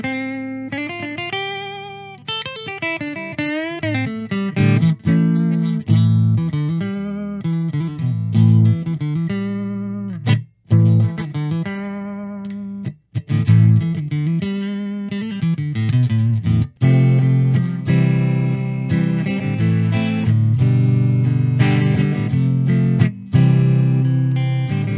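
A Gibson Longhorn electric guitar played through its piezo pickup rings out in a continuous stream of bright, twangy notes and strummed chords, close and fairly loud, with a couple of brief gaps and no talking.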